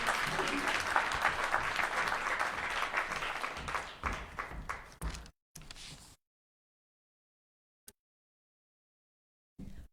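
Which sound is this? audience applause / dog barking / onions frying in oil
audience applause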